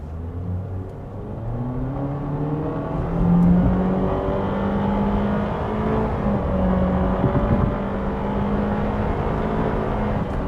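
A 2023 Honda HR-V small crossover accelerates at full throttle, its engine droning steadily loud from inside the cabin with a rising whine and a slight swell in level partway through, no talk over it.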